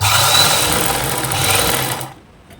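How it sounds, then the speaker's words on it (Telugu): A sewing machine runs a straight stitch along a side joint, a loud, close, continuous whirring drone that holds steady for about two seconds and then stops abruptly. "దీన్ని ఇలా ఇక్కడ వరకు మళ్ళీ స్ట్రైట్ స్టిచ్ వేసుకోవాలి"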